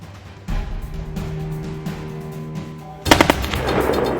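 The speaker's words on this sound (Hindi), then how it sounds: "पोस्ट पर अचानक दुश्मन की गोलीबारी।" Sudden bursts of enemy gunfire hit a border post in a dramatized Indo-Tibetan Border Police scene, with sharp rapid shots cracking loud and close over a steady background hum, intensifying near the end.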